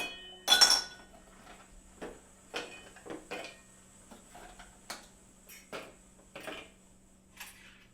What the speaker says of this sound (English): We're going to add some ice.